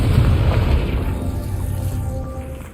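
A Confringo fire spell goes off in the game Hogwarts Legacy, a loud low booming blast right at the start that rolls into a rumbling tail and slowly fades over a few seconds.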